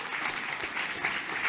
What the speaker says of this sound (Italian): Io direi un applauso a